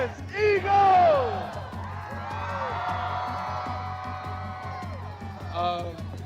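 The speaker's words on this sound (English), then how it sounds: "It's a hell of a crowd out here." A large crowd of Eagles fans cheers and whoops loudly, with rising shouts and yells swelling early, a sustained roar through the middle, and a fresh burst of whoops near the end.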